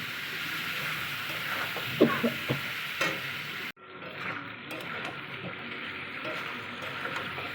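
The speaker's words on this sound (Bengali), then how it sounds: "এবার সামান্য জল দিয়ে কষিয়ে নেব।" Spiced fish being sautéed with a little water and turmeric in a pan, a sizzle with a few sharp stirring clacks, then a sudden cut to a softer, steady simmering hiss.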